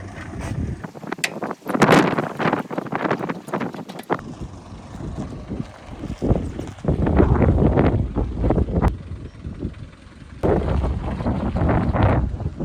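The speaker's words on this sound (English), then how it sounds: "It's so windy today." Strong wind buffeting the microphone in loud rumbling gusts, with brief calmer gaps between blasts.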